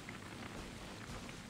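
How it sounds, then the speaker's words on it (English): Rain in the video game Genshin Impact, a soft, even wash of falling drops heard faintly and continuously without talk. "Is it because it's raining?"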